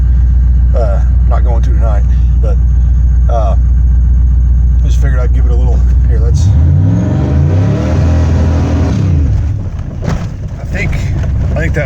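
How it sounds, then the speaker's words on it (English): A supercharged car engine fitted with a Vortech V3 Si supercharger revs loudly and close, holding steady before dropping into a deeper rumbling tone; someone talks throughout. "I think I'm just bouncing off the fucking rev limiter"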